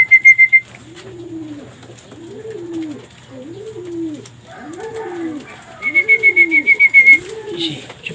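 Young pigeons coo in soft, repeated throaty phrases as they come out of their loft, a steady series of six or so rolling calls, with bursts of rapid high chirping at the start and again near the end, close and clear.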